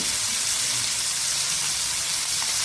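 Mackerel wrapped in banana leaf and egg coated in masala frying in a pan, giving a steady, even sizzle with a constant hiss throughout and no talking.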